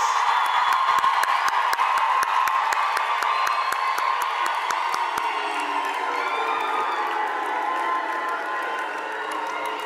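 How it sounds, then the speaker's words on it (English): A large crowd at a Durban University of Technology graduation ceremony applauds the class of 2024 with rapid clapping, cheering and whoops. The sound is loud and continuous, and the clapping thins out toward the end. "Please give them a round of applause."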